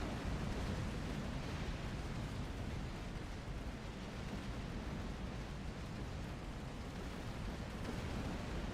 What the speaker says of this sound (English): Shit's just exploding.